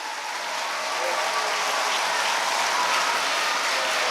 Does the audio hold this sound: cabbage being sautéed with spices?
no